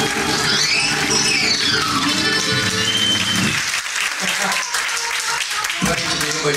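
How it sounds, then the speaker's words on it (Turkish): A gazino crowd breaks into strong applause for the orchestra, as tuneful music fades out beneath the clapping. The ovation continues loud and full while voices talk over it. "O zaman orkestraya bir alkış efendim"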